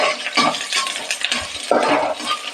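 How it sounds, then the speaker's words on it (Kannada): Green chillies slit lengthwise stir-fried in a pan with the other ingredients for a tomato dish, giving a steady close sizzle broken by scraping spatula strokes and a few clinks against the pan, with no talking. "ಎಲ್ಲನೂ ಸೇರಿಸ್ಕೊಂಡು ಈ ಥರ ಸ್ವಲ್ಪ ಫ್ರೈ ಮಾಡಬೇಕು"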